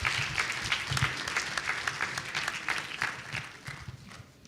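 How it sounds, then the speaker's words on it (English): An audience at an innovation festival claps, the hands clearly individual and uneven in rhythm, moderately loud at first and thinning out toward the end. "Please give them a big round of applause"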